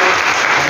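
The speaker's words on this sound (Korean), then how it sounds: "우리 박수 한번 하도록 하겠습니다" A church congregation bursts into loud, dense applause during a Sunday service, welcoming newly registered members including a newlywed couple, the clapping sustained and close for a brief moment.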